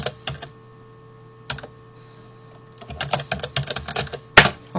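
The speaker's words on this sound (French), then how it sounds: "Je vais au clavier côté tiroir." Typing on a computer keyboard in a woodworking design session: a few isolated key taps, then a quick burst of clicking keystrokes ending in a loud, sharp key press.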